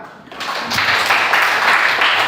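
Applause from a classroom of students: after a brief quiet start, a dense patter of many hands clapping rises quickly and continues evenly at close range.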